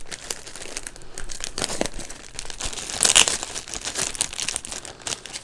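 A parcel of PS5 and Xbox controller accessories is unpacked by hand, plastic packaging crinkling and rustling in irregular bursts, with a louder crackle midway. Close and alone, with no talk.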